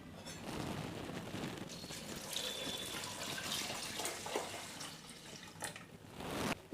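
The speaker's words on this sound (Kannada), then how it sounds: "1 ಬೌಲಷ್ಟು ಅಕ್ಕಿಗೆ 6 ಬೌಲಷ್ಟು ನೀರು ಸೇರಿಸ್ತಾ ಇದ್ದೀವಿ" Water pours steadily into rice in a pressure cooker, six bowls of water to one bowl of rice for bisibele bath with beans, potato, tomato and onion, a continuous splashing stream that swells near the end.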